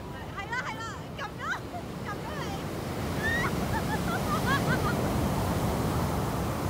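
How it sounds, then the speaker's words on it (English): Large ocean waves crash and surge on a black sand beach on Iceland's south coast, a continuous windy roar that swells louder midway, with faint distant bird calls and background voices. "all of a sudden, boom, there's a huge wave."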